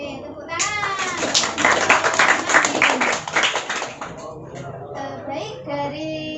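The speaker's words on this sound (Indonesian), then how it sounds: "Oke, tepuk tangan." Students in a classroom clap together in a dense, lively burst, with children's voices and chatter mixed in, before the clapping tapers off under talk.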